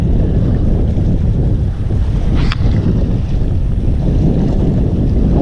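Steady, loud wind roars and buffets the microphone on an open boat during fishing at sea, with a brief faint tone cutting through midway and no talking.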